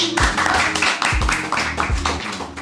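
Audience clapping, a loud burst of many hands close by with a few heavy thumps mixed in, sustained across the whole moment.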